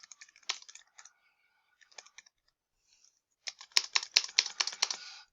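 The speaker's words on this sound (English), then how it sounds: "And I can type whatever I want in there." Keys clack on a computer keyboard in short, uneven bursts: a scattered patter, a pause, then a faster, louder run of typing close by.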